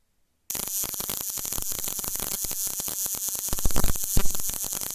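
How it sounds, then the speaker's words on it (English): A Ford car ignition coil misfiring on a spark test rig at 0.8 dwell, a loud continuous crackling buzz of rapid sparks starting abruptly after a brief silence, with irregular louder snaps toward the end. "That's a misfire."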